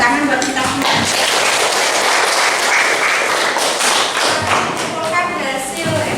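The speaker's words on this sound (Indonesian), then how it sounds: "Tepuk tangan buat kita semua" Classroom of pupils applauding together after a lesson activity, a dense, steady patter of many hands filling the room, with children's voices chattering over and through the clapping.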